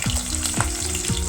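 Chopped onions sizzle in hot oil in a pan for a ridge gourd and chana dal curry. The frying hiss is loud and steady and close by, broken by a few low scraping stirs, and nobody speaks.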